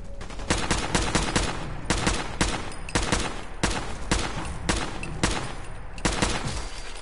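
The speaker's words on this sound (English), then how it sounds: "That was a nice bullet sound effect for the ricochet." Gunfire in Fallout 4's Nuka World lands as a string of sharp, loud shots at irregular intervals, with bullet ricochet effects ringing out among the cracks and no talking.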